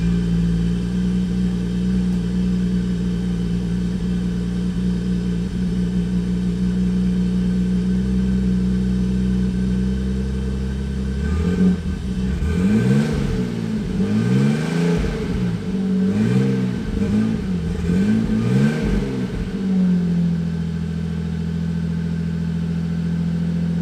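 A Toyota Aristo fitted with a custom Fireball Mega axle-back exhaust idles with a deep, steady drone, then blips through a series of rising and falling revs before settling back to idle, loud and close.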